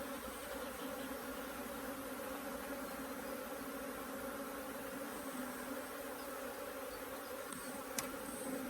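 A steady, dense hum of many honeybees buzzing close by on a hive frame from a nuc, continuous and even throughout, with a faint brief tap near the end.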